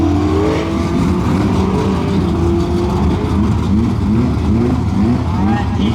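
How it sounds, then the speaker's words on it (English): A 2024 Ford Mustang S650 at a drag strip revs hard through a small burnout, its loud, steady engine roar rising and wavering in pitch throughout, with voices faintly audible in the background. "So you're gonna do a burnout or no? A little one."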